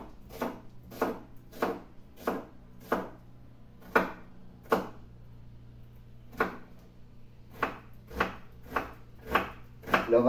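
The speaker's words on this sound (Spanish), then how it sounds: "La cebolla os dije que muy picadita también." Steady knife strokes finely chopping onion on a board, a regular series of crisp, close taps with a short pause midway, alone over a low steady hum.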